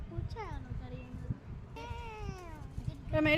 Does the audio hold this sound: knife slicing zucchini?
no